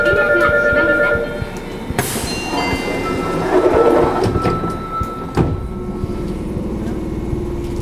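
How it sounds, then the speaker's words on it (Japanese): Fukuoka City Subway Airport Line 1000N series train with Hitachi IGBT drive pulling away from a platform, a sharp door or brake burst followed by rising motor hum and rumble as it gathers speed, with a station announcement voice over it. "3番乗り場から電車が発車します。"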